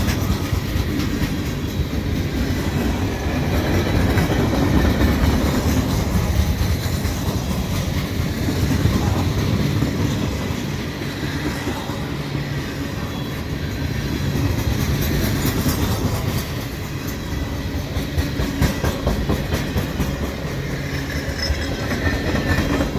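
A CN freight train led by a C44-9WL passes close by in winter, including Ontario Northland boxcars, with loud continuous rumbling and clickety-clack from the wheels over the rails.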